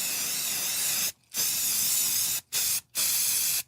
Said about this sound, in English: It's our anti-Never Trumper spray.